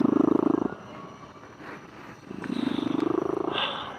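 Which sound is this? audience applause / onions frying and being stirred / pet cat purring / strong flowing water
pet cat purring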